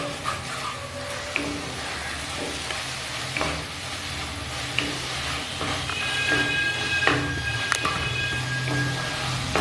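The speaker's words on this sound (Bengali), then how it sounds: "মিডিয়ামে রেখে ফ্লেম ভাজা ভাজা করে নিচ্ছি" Kolmi shak (water spinach) frying in a pan over a medium flame, a continuous close sizzle broken by occasional clinks and scrapes of stirring.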